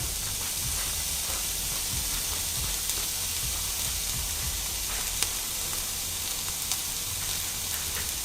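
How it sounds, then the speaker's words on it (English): Poblano peppers sizzle in hot oil in a pan, a steady broadband hiss and crackle running the whole time at moderate level, with a few faint pops and no talking. "We're gonna put some oil in a pan and just throw in the poblano"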